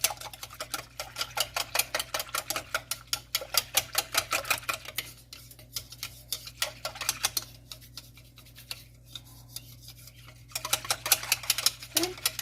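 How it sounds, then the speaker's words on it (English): A whisk works flour dough in a bowl with rapid, rhythmic ticking strokes that come in bursts, pause briefly in the middle and then resume, close and fairly quiet. "I'm going to use actually my whisk to break this up a little bit."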